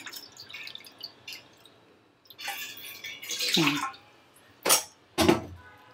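Water pours into a pot for rice and jaggery prasad in a few separate splashing bursts, with short quiet gaps between pours and faint clinks nearby.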